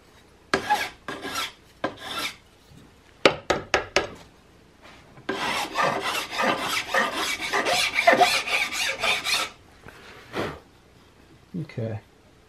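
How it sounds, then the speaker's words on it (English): Sandpaper rubbed along a CVA Hawken muzzleloader rifle barrel that already has a draw-filed finish, close rasping strokes in short bursts then a longer steady run of back-and-forth scrubbing. "we're going to go through and really clean it up with some sandpaper"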